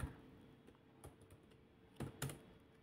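Quiet typing on a computer keyboard while entering a spreadsheet formula: a few scattered soft key clicks, with a small cluster of sharper taps near the end.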